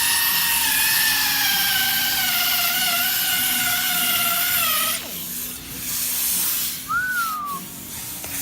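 A polisher fitted with a wool pad buffs the headlight of a 2012 Cadillac SRX, giving a loud, high-pitched whirring whine that runs steadily, then cuts off abruptly, leaving hiss and a short squeal.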